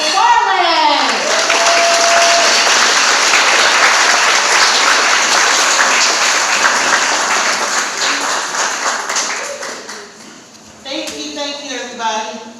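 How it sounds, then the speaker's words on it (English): A crowd at a poetry open-mic venue claps and cheers loudly and steadily for performer Bia McFarland, the applause fading toward the end as a voice starts speaking over the last few seconds. "Everybody, please start clapping right now for Bia McFarland."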